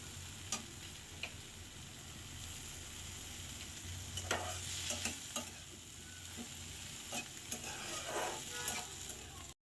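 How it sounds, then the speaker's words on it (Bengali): Shrimp with onion, green chili and garlic sizzle in hot oil, a low steady frying hiss broken by clicks and scrapes of a spoon stirring the pan, fairly close and with no talking. "আগে চিংড়ি মাছের পেঁয়াজ, কাঁচামরিচ, রসুনের সাথে তেলে নিব ভালো করে।"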